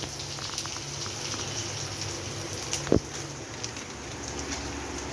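Turmeric hits hot oil in a pan that already holds cumin seeds and green chilies, for a Bengali paneer dhokar dalna. A steady, fizzy sizzle runs throughout, with a brief sharp clatter near the middle.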